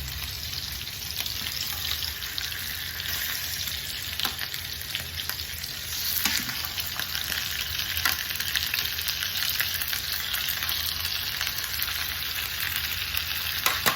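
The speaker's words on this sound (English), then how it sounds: "Hear that sear?" Pork chops sear in a hot pan with a steady, loud crackling sizzle that runs unbroken and close, with no voices over it.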